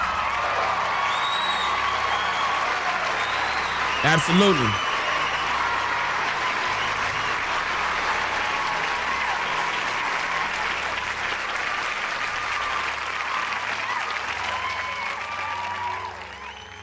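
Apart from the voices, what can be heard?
round of applause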